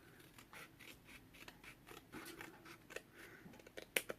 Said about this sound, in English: Let me just cut this a little bit more.